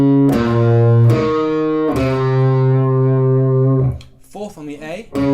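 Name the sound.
guitar playing the second repeat of a riff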